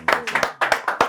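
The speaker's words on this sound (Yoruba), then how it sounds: "ẹ bá ń pàtẹ́wọ́ fún mi" Rhythmic hand clapping, close and loud, in quick bursts of sharp claps with brief gaps between them.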